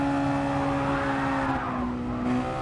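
Onboard an SLM MX5 Cup race car at Blue Moon Bay, the engine drone holds steady, then the pitch sags as the driver lifts off the throttle, loud and close with a slight rise near the end.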